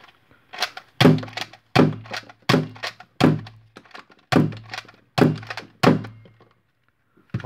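A 3D-printed seven-shot Hammershot foam blaster fired rapidly, about eight sharp, loud thunking shots in a quick, slightly uneven rhythm, each followed by a short rattle, close up and with no talking.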